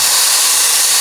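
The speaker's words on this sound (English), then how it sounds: "Nice lot of steam coming out of the machine," Steam wand of an espresso machine releasing a loud, steady, continuous hiss of steam, close and unbroken, with no talk.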